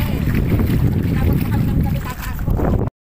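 A boat moves on open water, with a constant low rumble and wind buffeting the microphone while people talk close by.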